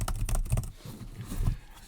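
Typing on a Brydge SP Max+ keyboard case for a Surface Pro produces quick, soft, moderately quiet key clicks in an uneven rhythm, heard close and alone.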